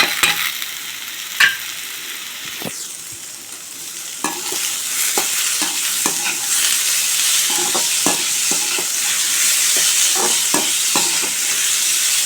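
Boiled bitter gourd pieces frying in a pan, a steady sizzle building as the vegetable is added, with many close spoon scrapes and stirring clatters in an irregular rhythm, no talking.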